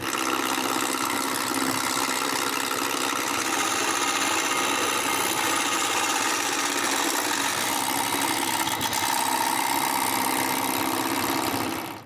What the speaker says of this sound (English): I mark the center of the end and turn the middle round